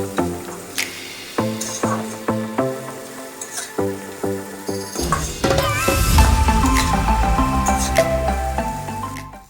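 Rhythmic background music plays, then a sudden burst of sizzling as tomatoes and spices hit hot oil in a pan and keep frying under the tune.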